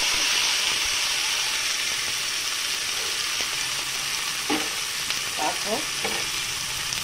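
Shrimp, potato and green jackfruit sizzle and fry steadily in a pan for a spicy Bengali jhal, with occasional stirring scrapes and a brief spoken word over the hiss.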